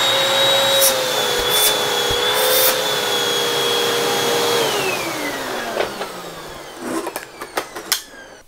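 A Hoover T-Series WindTunnel Rewind Plus upright vacuum cleaner runs with a steady, loud whine, then winds down as the motor is switched off, leaving a few clicks and knocks.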